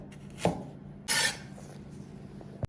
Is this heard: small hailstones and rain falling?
no